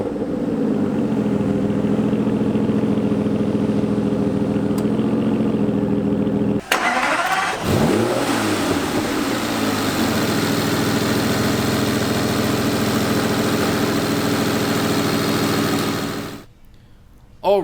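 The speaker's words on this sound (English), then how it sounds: "So let's start it up here, and I'll be back in a second and just see how this V12 sounds." A V12 engine in a 2016 Aston Martin DB9 Volante idles at first, then cranks and fires with a sharp revving burst before it settles into a loud, steady, smooth idle that cuts off near the end.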